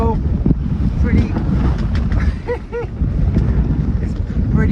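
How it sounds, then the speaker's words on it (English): Strong gusting wind buffets the microphone aboard a Contessa 26 sailboat on the Thames Estuary, a loud low roar broken by faint creaks and snatches of voice. "It's pretty windy too"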